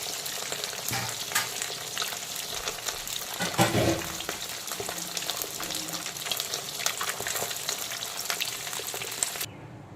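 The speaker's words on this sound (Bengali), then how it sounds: "এখন বাকি পিসগুলোকেও ভালো করে উল্টে পাল্টে মিডিয়াম ফ্রাই করে তুলে নেব।" Pieces of vetki fish fry in oil at medium heat, a close steady sizzle with spatters and scraping as the pieces are turned, before it abruptly stops.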